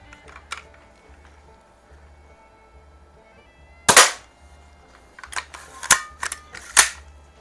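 A vintage 1974 toy BB gun fires in a few sharp, close clicks and snaps, one loud crack followed by a quick cluster of lighter shots over a faint background hum.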